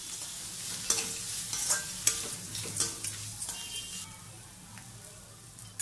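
Ginger and dried red chillies frying in a pan for poha upma, stirred with a spoon in a run of distinct scraping strokes over a soft, steady sizzle, close and moderately quiet.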